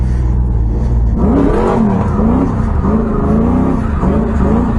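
A 416 cubic inch LS3 engine in a WS6 Trans Am drift car revs loudly and close, pitch rising and falling in repeated surges during a clutch kick.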